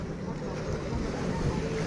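A tour motorboat pulls away across Acapulco bay at Puerto Marqués, its engine a steady low rumble mixed with wind and water wash, with muffled voices nearby.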